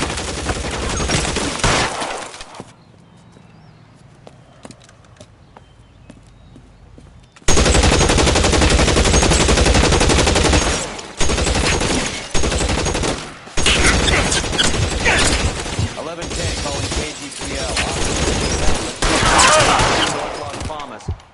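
Rapid bursts of gunfire in the LA Noire video game, a police shootout at 1452 North Las Palmas. Loud sustained volleys and fusillades drop to a quiet lull for several seconds, then resume in dense, repeated bursts.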